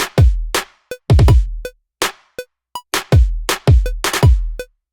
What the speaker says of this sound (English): But the main snap sounds like this.